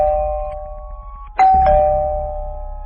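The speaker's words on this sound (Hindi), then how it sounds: "दरवाजे के पास आते ही गुल्ली घर की डोरबेल बजाता है" A cartoon house doorbell rings loud and close at a front door with a clear two-tone chime, the second note striking sharply and ringing out as it fades.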